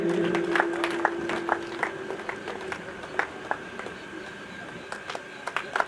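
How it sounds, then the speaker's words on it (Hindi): Scattered audience clapping at a ceremony for Delhi Police driver recruits, individual sharp claps ringing out irregularly over a hum and faint background murmur rather than a full ovation. "जोर से तालियां बजाएं, तालियों की गड़गड़ाहट इतनी तेज होनी चाहिए"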